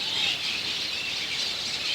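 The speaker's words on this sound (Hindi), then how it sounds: "चारों तरफ इतनी चहचहाट है" A dense, continuous chorus of birds chirps and squeals around a pond where ducks swim, the high calls overlapping with no pauses.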